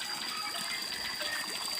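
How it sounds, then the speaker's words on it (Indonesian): Spring water pours from a spout in a valley, a loud continuous gushing splash, close and steady with no talking. "kita menemukan mata air ya"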